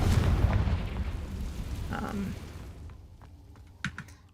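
A Confringo fire spell cast in Hogwarts Legacy: a loud, dense roaring burst that fades over a few seconds, followed by a few faint scattered clicks.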